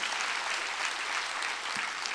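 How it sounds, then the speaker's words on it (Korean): Dense, steady applause fills a church during a Sunday worship service, a continuous wash of many hands clapping at once with no voices heard. "박수 쳐야 돼. 박수 쳐야 돼요."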